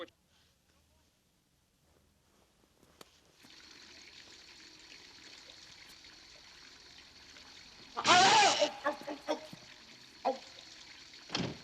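Water runs steadily from a tap onto a hand, then a louder splash and gush break in near the end after a quiet start.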